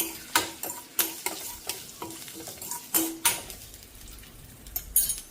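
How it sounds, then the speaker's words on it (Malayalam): Shallots, garlic and curry leaves sautéing in a pan, a soft sizzle under repeated sharp scrapes and clinks of a spoon stirring against the metal, close and moderately loud, with no talking. "ഇനി ഇത് നല്ലതുപോലെ ഒന്ന് വഴറ്റിയെടുക്കണം"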